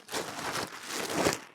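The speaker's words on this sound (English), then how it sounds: "Apologize for the noise. These bags are terrible." Plastic feed bags crinkle and rustle up close on a farm, in a few quiet, scratchy bursts of handling noise.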